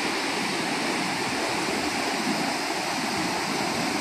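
Foaming canal water near a village pours by fast and makes a dense, unbroken roar that stays loud and even, with no voices over it.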